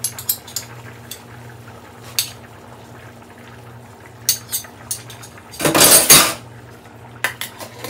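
A spoon clinks against a cooking pot while bouillon is mixed in, giving scattered sharp metallic taps and a brief burst of scraping and stirring near the end, close and clear over a low background hum.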